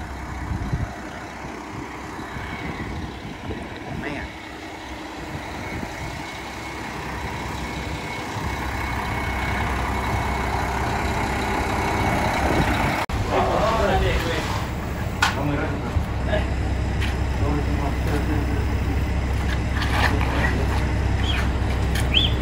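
A big dump truck delivering concrete for horse-area pads on a farm near a barn rumbles steadily with a low engine drone that grows heavier partway through, mixed with clanking and background noise.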